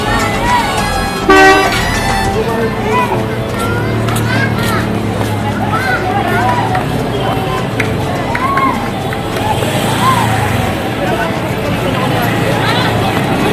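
Car horns toot repeatedly along a busy Manila street market, with passing traffic, crowd murmur and people talking nearby.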